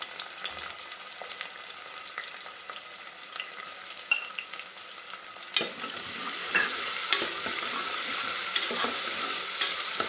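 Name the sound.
sliced onions frying until golden brown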